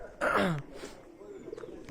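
A pigeon coos once, close and fairly clear, followed by faint bird sounds on a Darjeeling morning.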